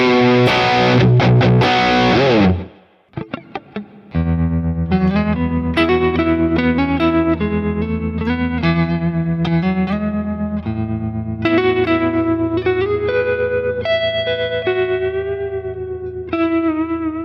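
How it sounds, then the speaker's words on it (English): An electric guitar played through Boss Katana Go amp presets rings out with a heavily distorted chord burst, a brief pause, then clean, effect-laden melodic single notes and chords with chorus and reverb, continuous and close. "I'll go through some presets and give you my top 5 tones from the Katana Go."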